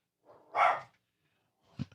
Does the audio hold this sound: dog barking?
yes